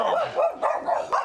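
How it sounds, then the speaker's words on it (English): Several jumpy dogs barking in a quick run of four or five close, loud barks. "The dogs are here. They're a little jumpy."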